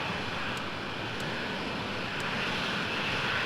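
F-16 jet fuel starter running during a ramp start in the Falcon 4 Allied Force flight simulator game, a steady loud whining, hissing drone with a few faint clicks.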